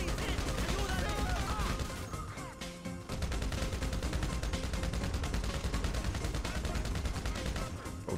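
Machine gun fire in GTA 5's zombie mode: a dense, continuous stream of rapid shots that pauses briefly partway through, then resumes loud and unbroken amid game noise.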